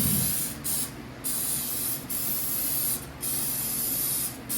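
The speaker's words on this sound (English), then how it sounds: "I am going to spray with some of this butter batter, butter flavored" Butter-flavored cooking spray hisses out of a can in several short bursts with brief gaps between them, close by and fairly soft, while making waffles.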